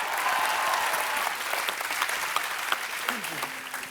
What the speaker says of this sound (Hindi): आइए मैम, जोरदार तालियां एक बार।